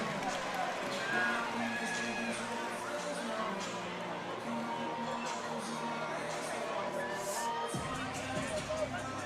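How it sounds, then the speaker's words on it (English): A crowd at a Fusion Fight League bout cheers and applauds the fighters, a continuous roar of hands and voices filling the space at moderate loudness, with a deeper rumble briefly dropping out near the end. "Let's give a big round of applause for Kai Stewart and all these fighters"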